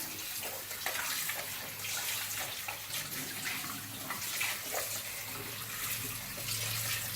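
Crabs are rinsed under a running tap in a kitchen, a steady hiss of flowing water with irregular splashes as they are handled, fairly quiet and without talk.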